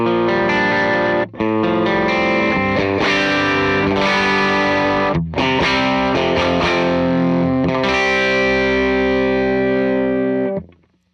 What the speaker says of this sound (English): And then here is the Sound of Justice Overdriver.